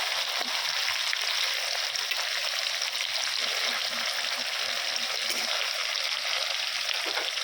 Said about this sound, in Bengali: দারুণভাবে ভাজা হচ্ছে